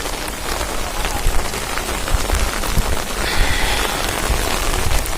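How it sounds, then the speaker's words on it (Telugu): Heavy monsoon rain pours down steadily on surfaces at a house site with a freshly laid concrete slab, a dense, continuous close-up patter with scattered louder drops and no voices. "మనకి స్లాబ్ వేసాము, వర్షం మొదలైంది."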